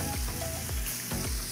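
Snapper caught in the Florida Keys frying in a pan, a close, continuous sizzle and crackle with a few soft stirring or scraping motions.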